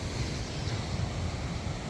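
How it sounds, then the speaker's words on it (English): Ocean waves roll onto a beach near a fishing pier, a continuous loud roar of surf mixed with wind noise on the microphone, heard alone without talk. "Very loud. Waves are always loud."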